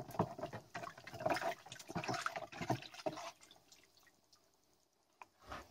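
Water runs and splashes over Lenovo PC parts being rinsed, with irregular drips and pours that are loudest early on, then thin out to faint trickles and a final few drops.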